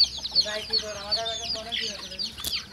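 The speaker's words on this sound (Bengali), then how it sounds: "দেখেন কত মুরগি" Free-ranging country chickens and a rooster cluck close by in a farmyard, a dense run of overlapping clucks and calls.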